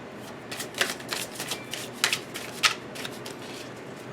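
Tarot cards are shuffled by hand close to the microphone in a steady run of soft, papery slaps and riffles lasting several seconds, with no one speaking.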